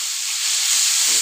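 Ground onion paste sizzles in hot oil in a pan over a lowered gas flame while masala bhindi is cooked, giving a steady close hiss throughout with no talk.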